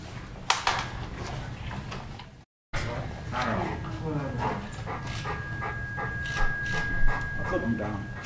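A dog at a city council meeting whimpers and gives short bark-like yelps, mixed with people talking and clapping in a large room.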